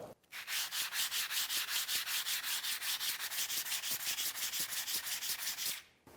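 Steady back-and-forth rubbing of a whetstone on sandpaper, a continuous rhythmic rasping scrape of fast even strokes, close and loud, with no voices.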